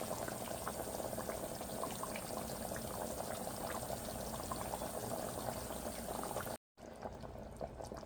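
A pot of meat curry with mango pickle (achar) gravy simmers on the stove, giving a faint, steady bubbling and hissing that drops out briefly near the end.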